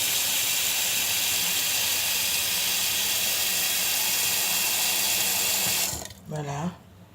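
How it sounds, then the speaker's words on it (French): Water is poured into a hot pan of gizzards, giving a loud, steady hiss of steam that cuts off near the end, followed by a brief voice speaking. "Là, je vais mettre de l'eau parce qu'il faut vraiment que les gésiers cuisent."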